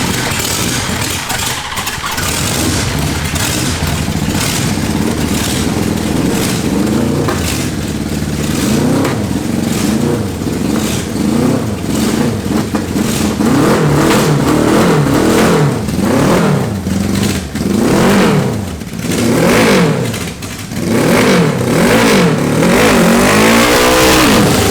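A supercharged wheelbarrow and a 550cc Little Tikes car race in a drag race. Their small engines rev loudly and continuously up close, with repeated rising and falling revving throughout.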